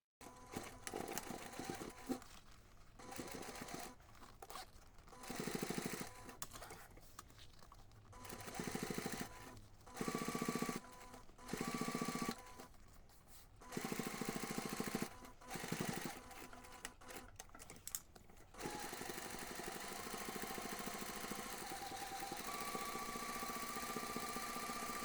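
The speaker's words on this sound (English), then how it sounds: "go ahead and take this to the machine. Top stitch along the finished seam" A sewing machine topstitches along a finished seam of a laptop bag divider pocket, running in repeated close bursts of steady whirring separated by short pauses, then one longer continuous run.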